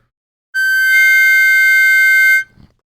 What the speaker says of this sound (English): the Funeral Harmonica, they have this product.